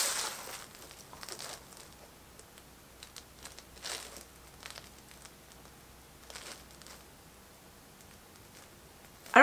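A dirty vinyl record with paper bits on its surface plays with scattered crunchy crackles and pops over a quiet hiss, sometimes clustered and sometimes sparse.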